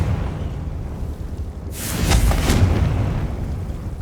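A fiery Confringo spell blast from Hogwarts Legacy erupts midway as a sudden loud boom with a whooshing burst, rising out of a low rumbling background and then lingering.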